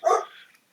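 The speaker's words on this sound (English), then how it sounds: "Sorry about the dog." A single short dog bark, close and loud, that fades into a faint tail of indoor room sound.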